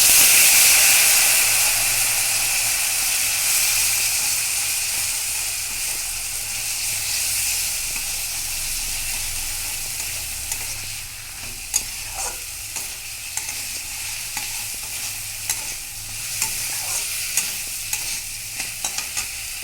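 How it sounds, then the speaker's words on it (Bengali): Poppy seed and chili paste sizzle in a pan with fried potatoes, a loud hiss that gradually softens while a spoon scrapes and taps in irregular strokes toward the end. "এবার পোস্ত আর লঙ্কা বাটাটা দিয়ে দিচ্ছি।"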